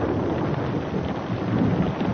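Steady rain with a low thunderstorm rumble, a continuous broadband wash of falling water and deep rolling thunder that stays even and unbroken throughout, with no voices.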